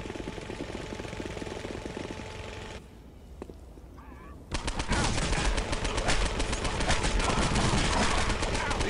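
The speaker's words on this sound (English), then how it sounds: "Please stop shooting at me" In Postal 2, gunfire is aimed at the player: rapid bursts of automatic shots, then a short quieter gap, then a loud, dense stream of shots that keeps going to the end.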